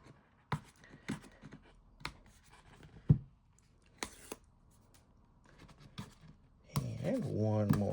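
Protective film is peeled off a new Google Pixel 10 Pro XL in a series of close crackles and sharp plastic clicks. Handling noise comes next, then a low rumble of movement at the end.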